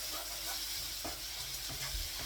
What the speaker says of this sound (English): frying the garlic